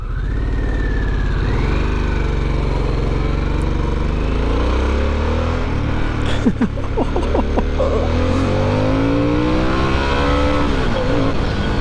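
A Harley-Davidson Sportster S motorcycle ridden in sport mode, its engine droning loud and close, rising and falling as it revs through gear changes amid rushing wind.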